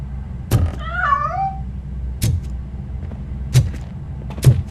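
A single cat meows once in the RoboCop: Rogue City video game, a short wavering cry heard early. Heavy thumping footsteps recur around it, with no talk.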